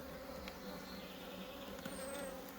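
A honeybee swarm hums as a faint, steady, continuous buzz, with a few brief, higher-pitched passes of individual bees flying close by.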